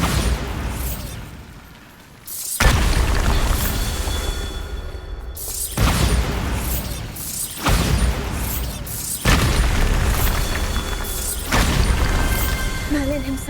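Bombarda spell blasts in the Hogwarts Legacy video game, several loud booming bursts that come a few seconds apart, each with a sharp attack and a rumbling decay, mixed with game effects.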